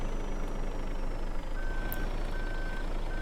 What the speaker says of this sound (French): Il y a le bip de recul, il y a tout, hein.